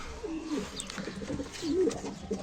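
Pigeons in a coop cooing in low, throaty bursts close by, with faint chirps and rustling around them and no talk.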